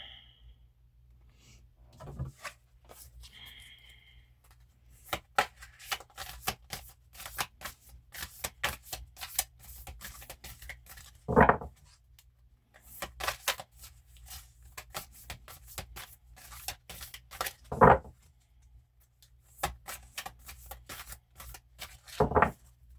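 A large, hard-to-hold deck of oracle cards being handled and shuffled close up, with bursts of riffling flutters and papery slides broken by a few sharper taps and knocks, and no talking.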